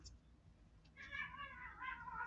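A cat meows several times in quick succession, fairly close and moderately loud, over a quiet room background.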